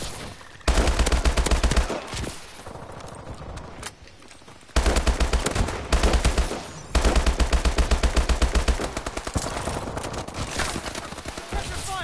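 Rapid automatic gunfire in a multiplayer shooter video game, loud repeated bursts of machine-gun fire with short pauses between them, continuing through most of the stretch.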